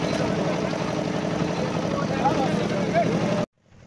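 A trawler boat's engine drones steadily as it crosses a broad open wetland, a continuous close mechanical hum that cuts off abruptly near the end.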